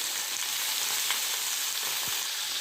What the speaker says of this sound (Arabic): تاخد لون كده ونقعد نقلب ونشوح فيها